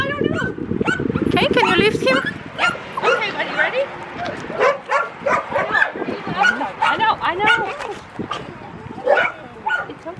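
A dog barks, yips and whimpers in repeated close bursts, mixed with people speaking over and between the sounds throughout.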